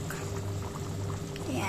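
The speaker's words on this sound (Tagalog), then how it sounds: "habang nagbo-boil, lalagay natin yung ating coconut milk" Coconut milk pours into a boiling chicken Thai curry, a short steady liquid pour over bubbling, with a low hum underneath.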